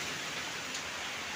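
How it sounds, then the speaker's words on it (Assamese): Rain falling hard during a violent windstorm, a dense, even roar of drops on surfaces that holds steady and close throughout, with no voices. "বৰষুণ আহিছে পলা ভাগো"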